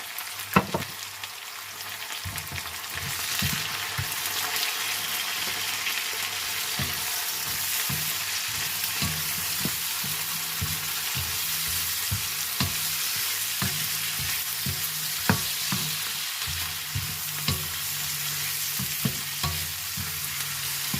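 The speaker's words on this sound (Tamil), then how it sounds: "இப்படி வதங்கினது பிறகு இந்த ஒட்டி வச்சிருக்கிற குடமிளகாயை சேர்க்கிறேன்." Capsicum and leek sauté in a hot pan for tuna noodles, giving a steady close sizzle throughout, broken by frequent light scrapes and knocks of a spoon stirring against the pan.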